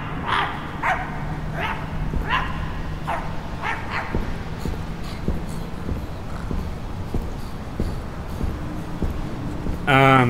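Dog-like creatures in the horror video game My Friendly Neighborhood bark in a run of sharp, evenly spaced yaps under a player's talk, with rhythmic clip-clop footsteps and a loud burst at the end.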